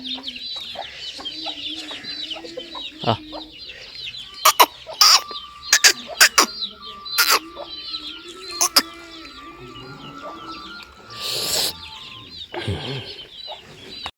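Chickens and chicks cluck and peep steadily nearby, with scattered sharp knocks and clatters breaking through the busy coop chatter.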